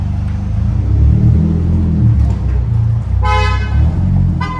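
A tuned BMW 325d E90 diesel with a full stainless exhaust rumbles loudly up close, its engine note rising and falling as it revs and pulls away, while a car horn blares twice near the end.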